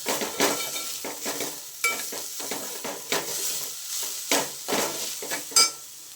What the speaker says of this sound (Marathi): त्याच्यानंतर सुके मसाले परत एकदा हे सगळं छान मिक्स करून घ्यायचं आहे आपल्याला